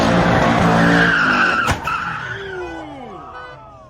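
A car skidding on the road during a crash, recorded from a dash cam: a loud, sustained tire screech with engine roar, one sharp impact-like burst in the middle, then sliding tones that fade out.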